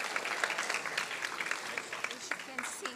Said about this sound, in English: Let's give a round of applause to our superstar